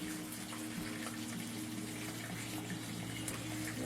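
Faint, continuous bubbling and sizzling of battered green tomatoes deep-frying in hot oil, with the batter made with cream soda. The low, even crackle runs throughout with no speech.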